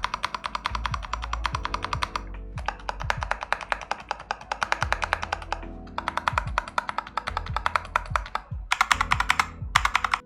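Typing on a Redragon Fizz K617 mechanical keyboard fitted with lubricated Akko switches and custom keycaps: bursts of rapid, close clacking keystrokes with a few brief pauses between runs, and deeper thock accents mixed in.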